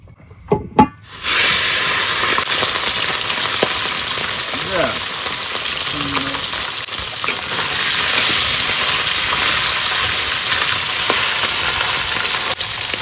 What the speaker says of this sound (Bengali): তেল গরম হয়েছে দিয়ে দাও একবারে মাখায় মাখায় দিয়ে দাও ঝকঝক করে